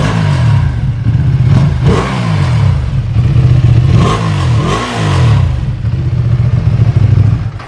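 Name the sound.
Ducati Panigale V2 motorcycle revving with stock exhaust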